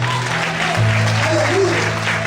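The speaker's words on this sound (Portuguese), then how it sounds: "Você pode aplaudir a Deus bem forte" A church congregation claps for God during a sermon, a brief, moderately loud patter of hands over sustained keyboard notes.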